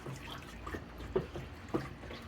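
Broom corn stirred in a vat of dye liquid gives faint, close, wet sloshing and dripping, with a few soft splashes at a slow, uneven rhythm.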